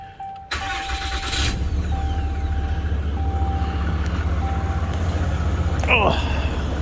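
A car engine cranks briefly and catches, then settles into a steady, close idle hum that runs for several seconds. A short squeak or voice-like sound comes near the end.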